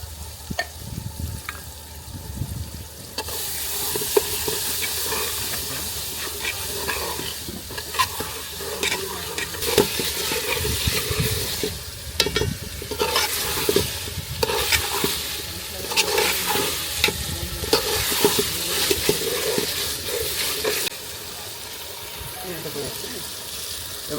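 Chicken frying in a pan with chopped chui jhal, tomato and whole garlic, stirred continuously, giving a loud, steady sizzle with scraping strokes and clatter, while people talk nearby.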